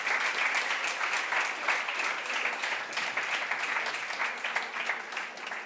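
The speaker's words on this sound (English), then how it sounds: "Can we give them a big round of applause?" Sustained audience applause for a panel of speakers at a youth event, a dense, steady wash of many hands clapping with no talk over it.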